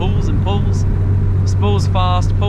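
A 260 kW Mitsubishi Evo 6 with a turbocharged 4G63 engine being driven: a steady, low engine drone runs underneath while a person talks loudly over it in bursts.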